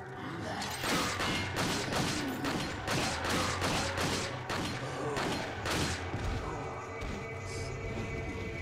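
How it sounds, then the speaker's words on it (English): Rapid pistol shots in the survival horror game Resident Evil 4, a fast string of sharp cracks fired in quick succession for most of the stretch, loud and close, with no talking over them. "I know that was an inefficient way to use my pistol"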